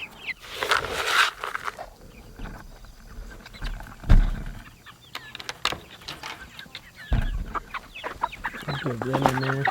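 Meat chickens, young pastured poultry, cluck and squawk in scattered bursts close by, with brief rustling between calls.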